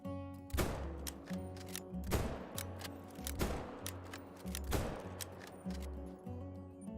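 Rifle shots crack in the hunting game Call of the Wild, three or four sharp reports spaced a couple of seconds apart over a quiet outdoor ambience with a low droning tone.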